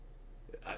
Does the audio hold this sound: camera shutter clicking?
no